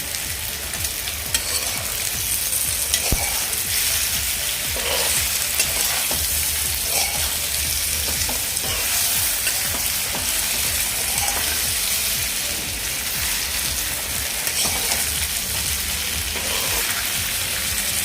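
Rice flour pitha (fare) deep-frying in hot oil: a loud, dense, continuous sizzle and bubbling that holds steady throughout, with occasional faint clicks and stirring taps and no speech.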